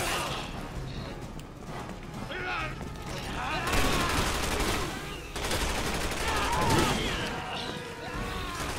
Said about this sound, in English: He's shooting at Sherry.